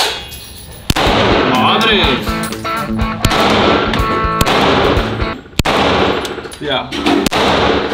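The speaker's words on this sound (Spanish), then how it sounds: "vas a apuntar con el láser donde quieras disparar. Aguanta firme y dispara." Five loud, sharp handgun shots are fired at a paper target using a laser sight, spaced a second or two apart. People exclaim and talk between the shots.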